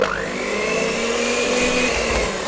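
An electric mixer with whisk attachments beats cake batter of icing sugar and almond flour on low for an opera cake, giving a steady, close motor whir that holds constant throughout with no talking.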